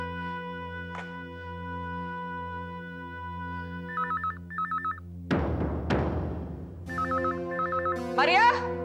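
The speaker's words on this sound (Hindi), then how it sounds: "मारिया, मारिया, मारिया, मुझे कोई फोन नहीं लेना है।" A telephone rings in repeated trilling bursts over steady background music, with a couple of sharp thumps and a brief scrape between rings.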